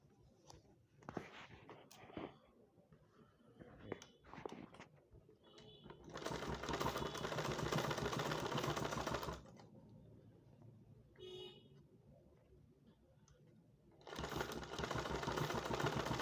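A sewing machine stitches a cap in two loud, buzzing runs of rapid stitching. Quieter handling and fabric noises come before the first run and between the two.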